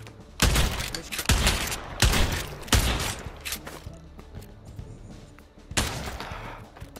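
Shotgun fire in a VR game: a handful of loud, sharp blasts in quick succession, then a pause and one more shot, with little talk over it.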